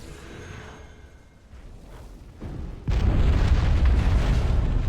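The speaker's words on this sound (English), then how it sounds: "Explosions." A deep, rumbling explosion in the video game Dragon Age: Origins erupts after a low whooshing buildup, then a sustained roaring boom that stays loud to the end.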